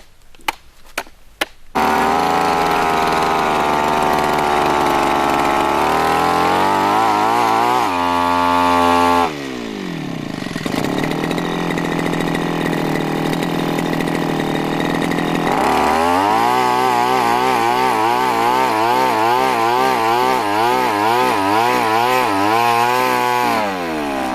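A loud, steady motorized engine drones continuously, dipping briefly and then surging again with a rhythmic, labored churning as the machine bores into the ground.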